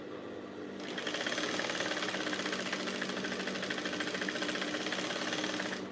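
A sewing machine runs in one steady, continuous burst, stitching the seam of an off-shoulder blouse; the close, even rattle starts after a brief quiet moment and keeps up without a break.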